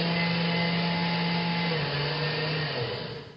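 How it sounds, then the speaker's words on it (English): A kitchen blender switched on for mashing potatoes whirs loudly and steadily, its motor pitch dipping slightly as it works, then fading off at the end. "I'll use the blender. Just as Jenny flicked on the switch,"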